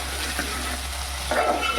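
Tomato frying in hot tempering oil with onion for moong dal, a steady close sizzle with a brief stirring scrape partway through.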